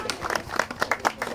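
Scattered applause from a small group at a carp fishing competition's prize giving, a few hands clapping in uneven bursts, fairly close and modest in volume.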